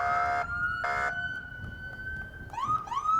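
A fire engine siren at a St. Patrick's Day parade wails loudly with a steady rising and falling tone, followed by quick upward whoops near the end, over background rumble.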